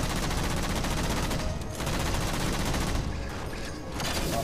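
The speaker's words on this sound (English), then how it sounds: "Combination of rockets and gunfire, but not firing directly at the jammers." Dense, continuous gunfire mixed with rocket blasts in the Halo 4 campaign, a sustained loud barrage of rapid shots and explosions with no clear pauses.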